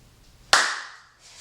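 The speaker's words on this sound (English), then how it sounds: "First thing we do here is we're going to clap." A single sharp hand clap at the start of a qigong exercise, close and crisp against near silence, its ring decaying over about half a second before a faint rustle follows.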